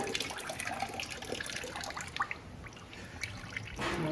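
Coolant water trickles and dribbles out of the radiator of a 2008 Yamaha YZ450F motocross bike, an uneven close-up splatter with small drips and a brief louder splash at the end.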